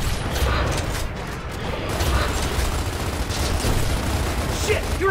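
Gunfire in the Gears of War co-op video game as players shoot at an enemy's feet, a loud continuous rattle of automatic weapons with mechanical clanks, and a voice speaking over it.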